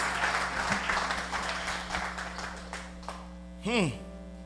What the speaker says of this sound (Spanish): Give him the round of applause.